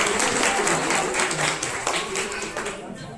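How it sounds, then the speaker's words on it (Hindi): A crowd at a women's assembly held for International Women's Day in a village panchayat claps steadily in welcome of local officials, a dense, fairly loud wash of applause with voices mixed in, tapering slightly toward the end. "तालियों से आप इनका स्वागत करें"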